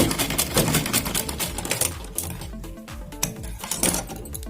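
A sewing machine runs a fast, continuous rattling stitch close up while sewing a kurti seam.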